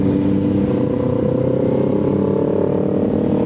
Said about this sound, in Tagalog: Ingay rin pala ng motor na ito ni Saint.